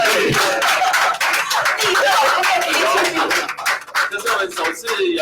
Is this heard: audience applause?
yes